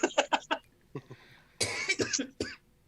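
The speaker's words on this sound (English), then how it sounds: "quit coughing" A run of harsh, close coughs: several quick bursts, a short pause, then a longer rough cough and one final hack.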